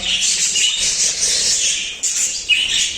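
Budgerigars in a breeding aviary, including a five-month-old jumbo bird in breeding condition, chirp and squawk continuously in a dense, busy chorus that stays fairly loud throughout, with no talking.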